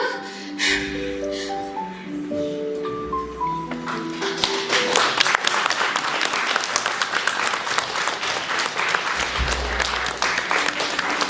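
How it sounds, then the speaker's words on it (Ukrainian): An audience at a school poetry recitation contest bursts into applause after a piano phrase, dense steady clapping building quickly and carrying on loudly to the end. "Ваші аплодисменти, молодець"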